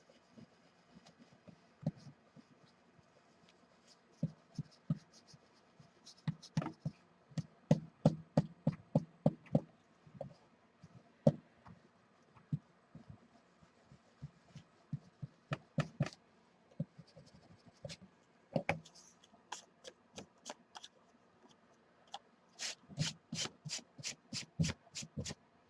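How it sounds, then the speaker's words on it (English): A Pentel polymer eraser scrubs pencil lines off paper at a craft table, making close, dry, scratchy rubbing strokes in uneven bursts that quicken into rapid back-and-forth runs, with no talking. "So I'm just going to erase my pencil lines, get them out of there."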